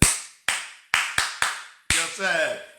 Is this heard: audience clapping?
yes